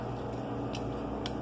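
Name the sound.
washing machine running in background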